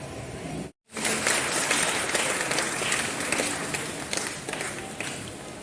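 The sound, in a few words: people clapping hands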